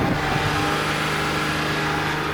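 Truck with a supercharged big-block engine revving hard, a dense, loud, steady roar held throughout at close range with no voices.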